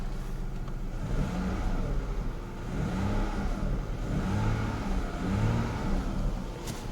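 An ES9A V6 car engine, under service for spark plugs and fuel injectors, runs steadily up close with a few rises in revs, a continuous mid-range drone throughout and no talk.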